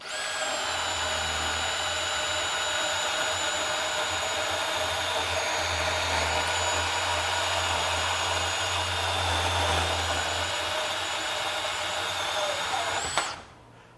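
A DeWalt DCS377 20V brushless compact band saw cuts through one-inch steel tubing with roughly eighth-inch walls, giving a steady, loud whine with a low motor hum that runs for about thirteen seconds before stopping abruptly.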